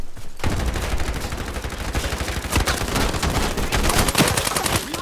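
Dense, continuous automatic gunfire from the Ironsight shooter game rattles on for several seconds, loud and close, with rapid overlapping shots.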